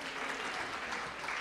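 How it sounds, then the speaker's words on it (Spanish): A church congregation applauds during an evening worship assembly, a continuous, even wash of many hands clapping, moderately distant and without pauses. "Dale un aplauso a Cristo Jesús"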